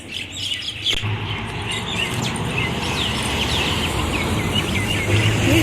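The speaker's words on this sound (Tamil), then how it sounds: "குருவி சவுண்டு" Sparrows chirp in a tree beside a road near a tea stall, giving a dense, continuous chatter of many bright chirps amid outdoor hum and distant traffic noise, with no one talking.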